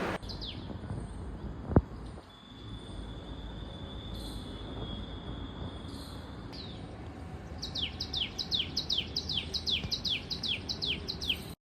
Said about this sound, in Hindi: पंछियों की चहचहाट मन मोह लेती है।